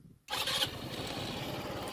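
A 150cc Kuba Rubano motorcycle engine cranks and fires up abruptly, then settles into a steady, loud running rumble close by.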